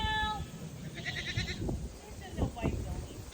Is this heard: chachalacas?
no